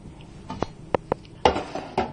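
Chopped potatoes and white onion tipped into a cooking pan, a short run of close clattering knocks and thumps as the pieces land against the metal, several distinct hits over about two seconds.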